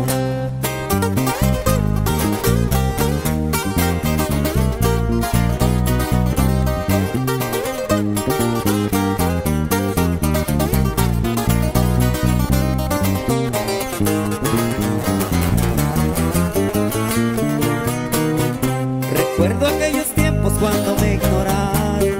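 Live corrido band playing a song, a dense, continuous full-band performance with steady strummed and plucked strings and bass, loud and close throughout without pause.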